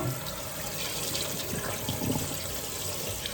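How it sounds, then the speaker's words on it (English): Rinse water is poured off rice in a kitchen, making a steady, moderately loud splashing flow that runs without a break. "just pouring the water off it until the water is almost clear"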